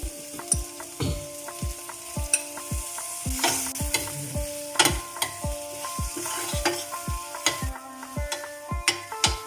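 Marinated paneer frying in a pan for a paneer chapathi roll, a steady close sizzle punctuated by frequent sharp clinks and scrapes of a spatula stirring against the metal pan, with no talking.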